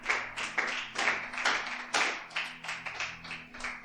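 A small church congregation claps for Jesus after a sermon, a sparse run of uneven individual claps at a moderate distance, rising and falling without a steady beat.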